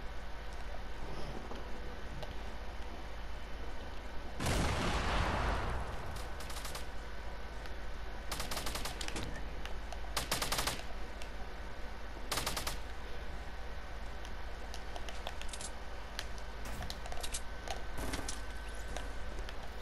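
Distant gunfire in Fortnite: a short, loud burst followed by scattered, fainter volleys over a constant background hum.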